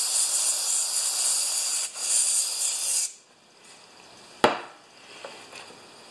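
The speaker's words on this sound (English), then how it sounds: "let's just get some carb spray first, right?" Carb cleaner sprays onto the governor shaft of a Kohler engine on a Craftsman mower in two loud close hissing bursts, then a sharp click and quieter ticks.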